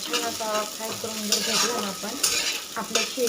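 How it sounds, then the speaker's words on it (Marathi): Sago pearls frying in a pan while being stirred, a close, steady sizzle with scraping strokes of a spoon running throughout. "आणि आपल्याला हे असं हलवत राहायचं आहे आपल्या शब्दांना खाली चिकटून नये म्हणून"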